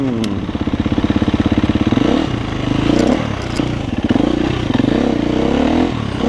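A very light dirt bike engine revs repeatedly in close, loud bursts, its throttle rising and falling in a rough rhythmic pattern with some clatter, no talking.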